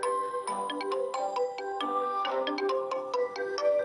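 A phone rings with a melodic ringtone, a run of bright, steady chiming notes that goes on throughout, close and clear with no talking over it.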